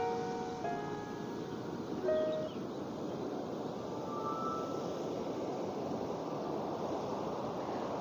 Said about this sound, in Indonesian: Dan bunyi ombaknya gede banget tuh, sampai dia nyampe ke atas tebing itu